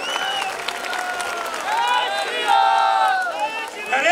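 An audience at a junior college stage performance claps and cheers for the children, with excited voices rising over the applause in a lively, sustained burst.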